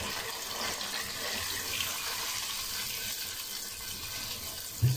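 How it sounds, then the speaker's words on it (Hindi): Continuous rushing, splashing water poured into a cooking pot of chicken and chana dal runs steadily for several seconds, close and fairly loud, with a small clunk at the end. "तो पानी शामिल करते हैं"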